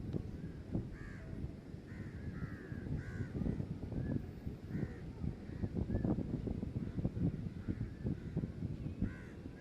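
Crows caw harshly and repeatedly while chasing a weakened gull on the shore, the calls coming in scattered bursts over steady wind rumble and background noise.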